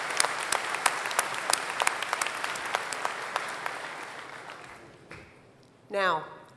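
Audience applause at a spring university commencement ceremony, a dense burst of clapping with distinct sharp claps that tapers away, followed by a brief voice near the end.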